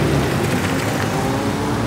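A Porsche GT4 RS drives past in the Nürburgring car park, a loud, broad engine roar sustained for about two seconds at close range, with no voices.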